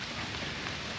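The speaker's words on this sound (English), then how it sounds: "it is now raining" Heavy rain pouring down outdoors, a dense even wash of close drops rushing on surfaces with no break over one second, loud and steady with no voices.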